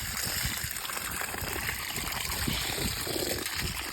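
Garden pond water being stirred up to draw worms out of the gravel, a steady close trickling and sloshing wash with small splashes, continuous and fairly quiet with no talk.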